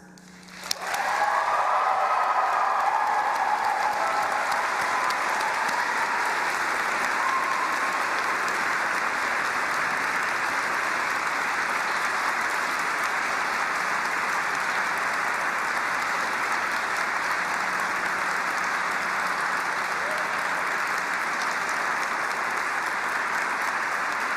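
Graduation ceremony audience bursting into loud, sustained applause with cheering, starting abruptly and holding steady for over twenty seconds in a large hall.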